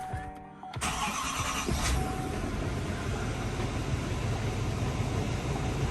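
A Chevrolet Silverado L5P Duramax diesel pickup engine, hood open, cranks briefly, catches, and settles into a steady rumbling idle that continues to the end.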